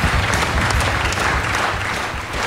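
An audience at a club-style TV show breaks into loud, sustained applause, dense clapping that fills the whole moment without a break.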